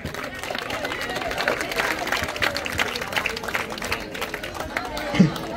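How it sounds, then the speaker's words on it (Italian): A crowd at a town palio sports event applauds the football players, with steady clapping mixed with chatter and crowd babble and a brief louder knock near the end. "un applauso anche per i giocatori di calcio"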